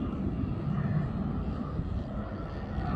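An E-flite Conscendo Evolution RC plane flying under power, its electric motor a steady, fairly faint droning hum heard from a distance.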